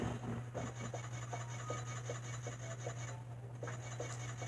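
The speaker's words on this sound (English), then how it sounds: "Got a bolt crank here." A bolt crank being turned in Ratchet & Clank: Size Matters, a steady grinding, ratcheting loop with regular rhythmic clicks over a constant low mechanical hum, close and moderately loud.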